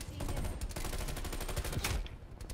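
Rapid automatic gunfire in a Call of Duty Black Ops Cold War multiplayer match, a dense burst of sharp shots in quick succession, fairly close, with a brief louder crack near the end.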